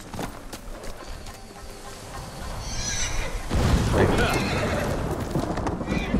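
A horse in the video game Ghost of Tsushima neighs and whinnies amid clip-clopping hooves, growing louder partway through, while a voice talks over the game sound.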